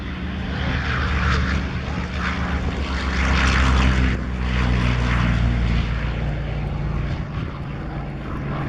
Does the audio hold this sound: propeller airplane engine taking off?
yes